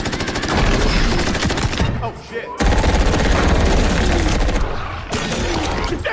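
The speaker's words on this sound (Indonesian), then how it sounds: "Dan dan pasukan terus membombardir landak putih tersebut dengan peluru senapannya" Sustained rifle gunfire from a squad of soldiers shooting at a white porcupine-like monster in a sci-fi film: dense, loud, rapid volleys that briefly ease off twice before resuming.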